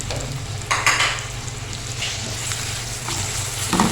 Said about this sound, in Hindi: इसको 2 मिनट भूनेंगे।